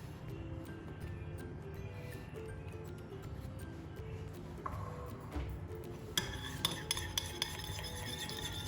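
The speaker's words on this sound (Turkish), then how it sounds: "Yumurta sarısını daha güzel karıştırabilmek için derin bir kaseye aldım." A utensil stirs egg yolk and yogurt in a deep bowl, giving soft steady scraping and light clinks that grow brighter and more metallic toward the end, with no talking.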